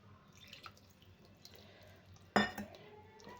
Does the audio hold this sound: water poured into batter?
yes